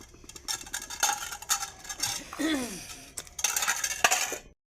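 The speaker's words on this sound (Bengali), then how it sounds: "আমি সকাল সকাল গরম জলে বাসন ধুয়ে নিচ্ছি" Metal dishes being washed in hot water under a running tap clatter and clink up close, with a dropped plate ringing out in a sliding tone midway and more rattling before it goes silent. No one speaks.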